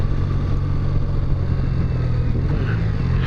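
A Triumph Bonneville motorcycle engine running on the road, a steady low droning rumble with faint wind noise, continuous and fairly close, with no talking.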